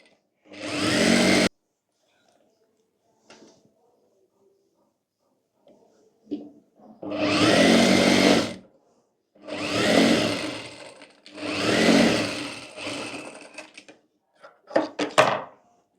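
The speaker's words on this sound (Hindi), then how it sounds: "यहाँ पर भी हम एक एक सिलाई कर लेंगे" Sewing machine stitching a ladies' night suit, several loud close bursts of a few seconds each separated by silent pauses, ending with short stuttering runs.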